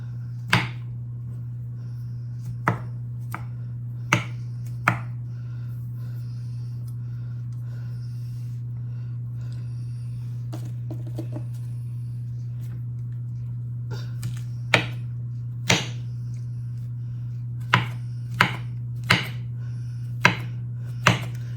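Food is chopped into small pieces for party appetizers, a knife striking a cutting board in sharp, close, irregular taps, sparse at first and then quicker, over a steady low electrical hum.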